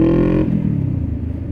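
A motorcycle engine revs briefly and then settles into a lower, rumbling run as the rider swings through a quick U-turn, with steady road noise underneath.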